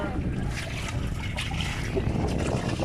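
Water sloshes and splashes against a pedal boat moving along, with wind buffeting the microphone and a faint voice in the background.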